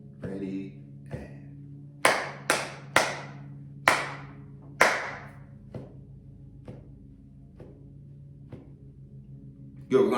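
A class claps a rhythm together: a few sharp, loud unison claps in an uneven pattern, then softer scattered taps, with a steady low hum of room noise underneath.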